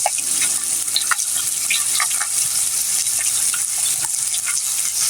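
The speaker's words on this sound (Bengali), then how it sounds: "তো পেঁয়াজটাও এখন ভাজা হতে থাকবে।" Onions seasoned with turmeric, chili and salt frying in a pan, a steady close hiss of sizzling oil with scattered small pops and crackles throughout.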